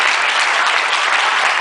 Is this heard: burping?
no